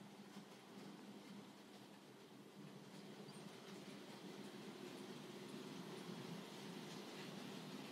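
A model train rolls steadily along its track, a continuous rumbling hum with faint rhythmic clicks, moderately close and slowly growing a little louder.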